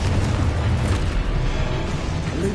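Blasting-spell explosion from the Hogwarts Legacy video game: a loud, sustained rumbling boom with dense low-end roar and crackle filling the whole stretch, no talk over it.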